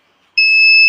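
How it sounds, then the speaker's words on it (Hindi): An inverter sounds its alarm during an overcharging and charge-cut fault: after a brief quiet, a single sharp, high electronic beep starts abruptly and holds steady and loud to the end. "बीप की आवाज़ आ रही है"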